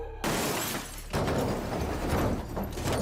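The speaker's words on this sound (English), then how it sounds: "everything became shattering glass, screeching tires, and crunching metal" A car crash erupts in a loud burst of shattering glass and crunching metal, a dense roaring clatter that surges again after a second and keeps rumbling with scattered debris.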